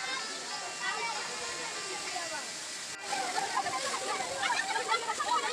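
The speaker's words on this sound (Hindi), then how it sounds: "यह झरना लगभग 50 फीट लंबा और 40 फीट चौड़ा है।" Gavalidev waterfall in Navi Mumbai, about 50 feet tall and 40 feet wide, gives off a continuous broad rush of falling water that grows fuller and closer partway through, with faint voices in the background.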